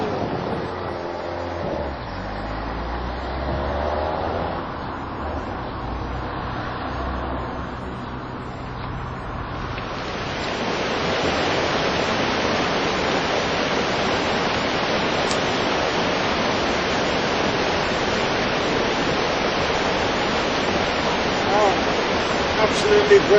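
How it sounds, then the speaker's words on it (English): Water rushes steadily along a trail near Callander in Scotland, a broad continuous roar of flowing water that grows fuller and louder about halfway through, with a voice talking over it. "With the water rushing down there,"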